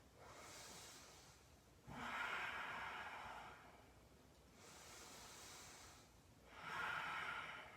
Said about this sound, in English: Let's just take 2 more big breaths.